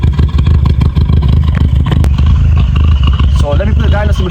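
A VW Golf GTI MK5 engine idling with a misfire, a loud, close, uneven throbbing with clattering beats, while a voice talks over it.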